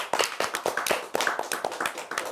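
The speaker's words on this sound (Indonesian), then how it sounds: "Tepuk tangan dong." A small audience at an educational talk claps together, a brief burst of quick, moderately close hand claps without voices.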